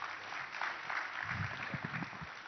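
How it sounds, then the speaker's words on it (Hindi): Studio audience applause greeting guest Shikhar Dhawan at a Hindi TV interview show, a steady wash of clapping throughout with some lower crowd rumble building toward the end. "आप तालियों से स्वागत करिए आज के"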